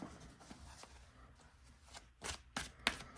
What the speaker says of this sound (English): let's see how well this shuffles.